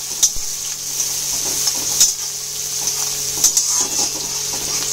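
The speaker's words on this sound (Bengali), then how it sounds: "পেঁয়াজটা ভাজা হচ্ছে।" Continuous bright sizzle of onions frying in hot oil, punctuated by a few clacks of a spatula stirring the pan.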